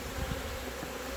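Honeybees buzz steadily around an opened beehive during an inspection for mite damage. The close, continuous drone has no one talking over it.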